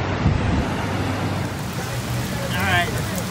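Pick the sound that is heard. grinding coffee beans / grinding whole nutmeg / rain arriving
rain arriving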